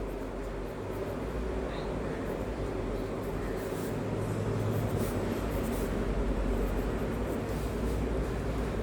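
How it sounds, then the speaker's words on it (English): Hand-writing an equation during a maths class, the faint scratch of the pen running steadily under a loud, constant background hum with no talking. "I am writing this LHS first."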